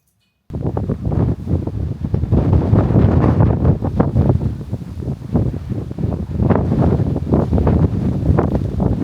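Strong wind buffets the microphone on a UK homestead, a loud, continuous roaring rush with gusty surges throughout and no voices.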